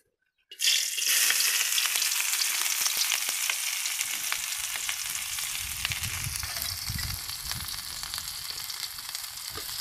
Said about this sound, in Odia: କୋବି ଶାଗ ଏଇନା ଆମେ ଭାଜିବା।